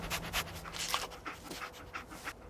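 Dogmeat, the canine companion in the Fallout 4 video game, pants softly and rhythmically nearby, a quiet, steady breathy huffing over faint ambient game noise.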